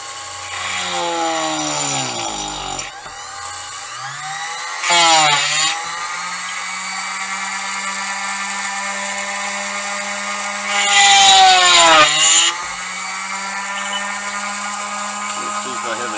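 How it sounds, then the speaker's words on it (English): A power drill bores holes in wood, whining as it spins up and down, with two bursts of loud cutting and chip noise as the bit bites, and brief pauses between the holes. "We'll drill some holes."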